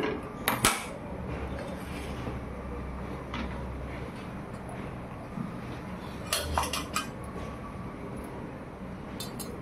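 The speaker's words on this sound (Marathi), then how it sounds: "गॅसवर तवा ठेवूया." A metal tawa griddle set down on a gas stove, heard as a close clatter of metal clanks at the start and another cluster of knocks later, over a quiet kitchen background with no voices.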